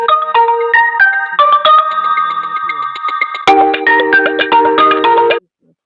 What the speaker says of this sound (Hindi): बीच में फ़ोन आ गया था और मैंने उसे कट कर दिया है